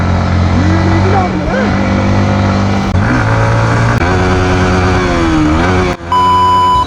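A Yamaha MT-15 motorcycle engine drones loudly on the move, its pitch rising and falling with the throttle, while voices talk over it and a short beep sounds near the end.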